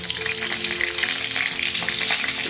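Salted mullet fish frying in hot oil, still wet from washing, gives a continuous close sizzle scattered with sharp pops and crackles.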